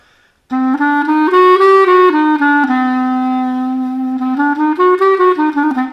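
A solo clarinet plays a melodic altered Dorian scale run in Balkan village style, sustained notes with a brief held tone in the middle, clear and close with no talking.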